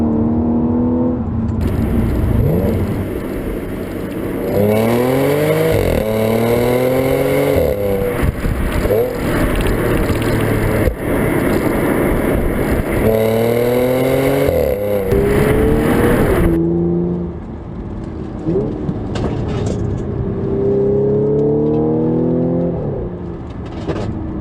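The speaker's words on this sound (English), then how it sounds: "You can hear the downshift there" An Audi S4 Avant Black Edition engine heard from the cabin on the road, revving up through the gears with repeated rising pulls and downshift blips, loud and continuous, with someone talking over it.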